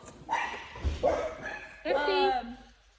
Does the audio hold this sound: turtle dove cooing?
no